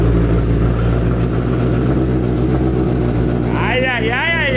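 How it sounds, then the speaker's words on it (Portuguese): A motorcycle engine idles and revs in a steady, loud, close rumble, with someone talking over it throughout. "Vamos dar uma ligadinha aqui. Aí, essa moto é braba, né"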